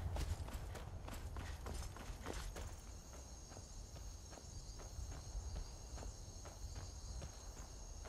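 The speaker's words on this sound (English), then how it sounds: "I hear some crickets." Crickets chirp at night in the video game Skyrim, a steady high trill in the background while rhythmic footsteps or hoofbeats thud along throughout.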